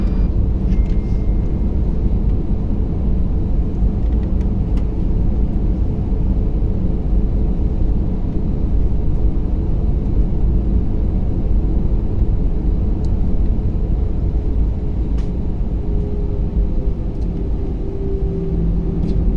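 Passenger jet taking off from Bangalore airport, heard from inside the cabin as a steady, loud, continuous engine roar and rumble that holds for the whole stretch without a break.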